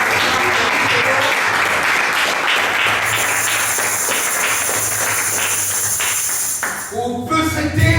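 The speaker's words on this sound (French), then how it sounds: "Acclamons très fort Jésus." Congregation at a Christian worship service applauding and cheering for Jesus, a dense, loud wash of clapping that runs steadily throughout, with voices mixed in and a sustained high ringing tone entering partway through.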